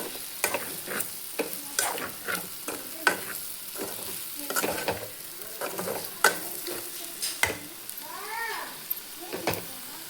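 Pressure-cooked mutton pieces fry in oil in a pan, with frequent scraping stirs over a gentle sizzle, and a cat meows briefly in the background.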